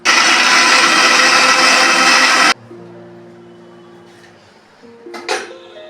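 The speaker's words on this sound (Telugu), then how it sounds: "వేయించుకొని గ్రైండర్ చేసుకోవాలి" A mixer grinder grinding fried spices and garlic whirs loudly for a couple of seconds then cuts off abruptly, followed by a faint hum and a light clink.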